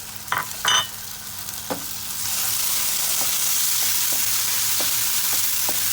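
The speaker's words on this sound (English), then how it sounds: "we're going to add in the tomatoes" Tomatoes drop into hot oil in a pan for chicken fried rice and burst into loud, steady frying, with a few utensil clinks from stirring over the continuous sizzle.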